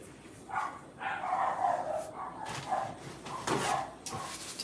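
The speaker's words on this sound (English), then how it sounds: "Don't know why those puppies are barking." Puppies yip and bark faintly in the distance, several short high barks and whimpers scattered over a soft background hiss.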